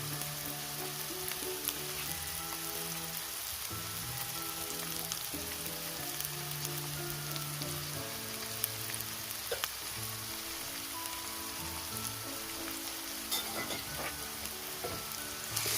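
Green chillies frying in hot oil while chicken curry cooks, giving a steady, close sizzle and crackle that runs unbroken through the whole stretch with no talking.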